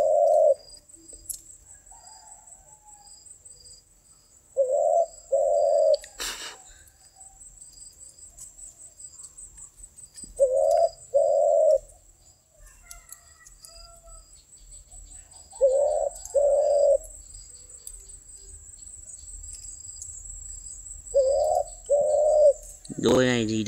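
Spotted doves cooing in soft paired phrases that repeat every few seconds, each short double coo standing out against a constant high chirring of crickets outdoors.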